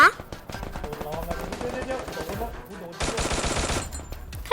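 Rapid bursts of gunfire in the mobile game Free Fire crackle loudly and almost continuously, with a dense stretch of shooting near the end and a voice talking over the shots.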